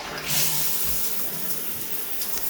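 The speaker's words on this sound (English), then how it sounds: "All right, let's check the shower." Water runs from a shower during a move-in home inspection, a steady hiss of spray that starts with a brief louder gush and then stays level and close.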